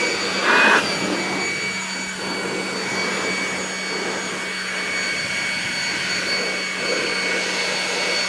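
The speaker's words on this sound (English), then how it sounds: "The blow dryer." A blow dryer runs steadily while drying a freshly washed bicycle, a constant airy whine with a brief louder blast near the start.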